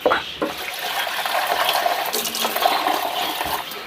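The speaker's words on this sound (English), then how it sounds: "I'm just going to rinse the jug out, if the tap will work" Tap water gushes loudly into a sink while a jug is rinsed out in a kitchen, a close, continuous splashing rush with brief bursts at the start.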